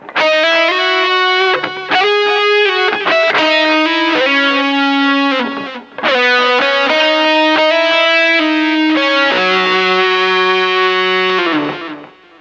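Distorted electric guitar plays a slow melodic phrase with slides between sustained notes, loud and close, heard alone without talk.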